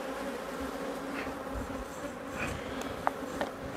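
Honeybees in a beekeeper's electrically heated hive hum in a dense, continuous buzz, close and steady, with a couple of faint clicks near the end.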